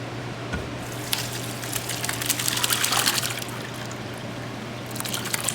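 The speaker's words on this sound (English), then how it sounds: "I'm gonna pour the whey into this pot because we're gonna have to reheat that in order to stretch the mozzarella." Whey from mozzarella making is poured into a pot in a steady, splashing trickle that swells in the middle and then settles, with a low hum underneath.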